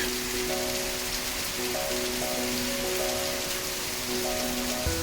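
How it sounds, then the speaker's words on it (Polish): Heavy tropical rain pours down on Bali in a steady, dense roar that fills the scene, with a faint tonal hum running underneath. "czasami tu pada deszcz. To nawet dosyć intensywny, jak to w tropikach."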